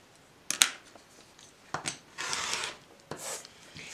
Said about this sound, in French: vous coupez tout simplement votre fiche en deux.